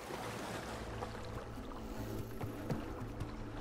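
A motorboat engine drones steadily and faintly in It Takes Two, a continuous low hum with a faint wash of water around it and no voices.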